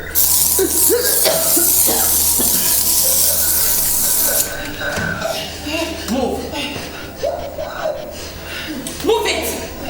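A loud hissing spray bursts over the first few seconds, followed by people coughing and sputtering amid shouting voices and shuffling movement.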